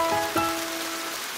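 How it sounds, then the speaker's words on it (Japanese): Rain sound effect for Tentacruel's Rain Dance in a live-action Pokémon race, a steady hiss of falling rain with a faint tonal ring and a brief splash near the start. "なんとドククラゲ自ら雨を降らせて力を取り戻した。"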